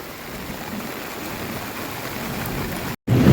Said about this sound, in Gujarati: અહીંયા જુઓ ધોધમાર વરસાદનું પાણી જઈ રહ્યું છે